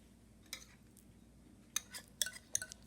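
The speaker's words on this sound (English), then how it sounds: "my baking powder, give it a good mix in here" Dry ingredients, salt and baking powder in flour, being stirred in a bowl for dhal puri dough, giving soft scrapes and a few sharp clinks of utensil against bowl in short bursts, fairly faint and close.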